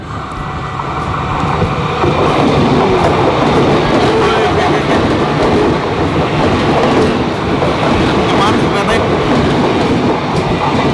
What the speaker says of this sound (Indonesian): Agak ngeri sedap juga ya. Kereta bandara.